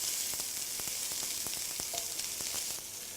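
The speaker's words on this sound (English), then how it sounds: "The first thing you do is put the onions in. I love to hear that sizzle." Onions sizzle in a frying pan, a steady close hiss with crackles and small pops as they soften, with no one talking over it.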